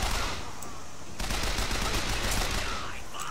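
Gunfire in the video game Bioshock Infinite, loud dense bursts of rapid shots with a sharp new volley starting partway through, sustained and close, with faint background voice.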